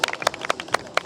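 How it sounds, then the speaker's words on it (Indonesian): Applause from a group, heard as a short burst of uneven hand claps in quick succession, close and fairly loud with no talk over it. "tepuk tangan buat diri kalian sendiri"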